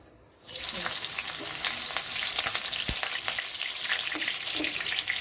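Green chili sizzling in hot oil in a pan while making Hakka noodles, a steady dense crackling fry that starts abruptly and continues loud and close, with a few sharper pops and stirring clinks and no talk.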